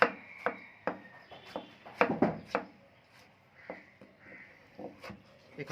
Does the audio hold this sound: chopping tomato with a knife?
yes